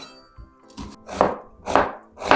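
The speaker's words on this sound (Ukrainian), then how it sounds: "У мене така чималенька, велика цибулина і наріжу її півкільцями." A knife cuts a large onion into half rings on a board, giving three or four crisp, evenly spaced slicing crunches that grow louder, close up and with no talk.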